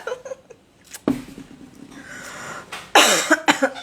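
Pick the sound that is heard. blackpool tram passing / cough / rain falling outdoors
cough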